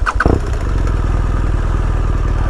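A 2016 BMW R1200 RS motorcycle with an Akrapovic exhaust starts with a few quick cranking bursts, then settles into a loud, close, throbbing idle.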